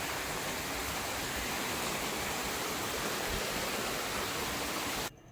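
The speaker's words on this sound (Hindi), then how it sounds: "भाई आज यहाँ बारिश ना रुके, धड़ाधड़ बारिश होने लग रही है।" Heavy rain pours down in a dense, steady roar, loud and continuous with no voices, cutting off abruptly just before the end.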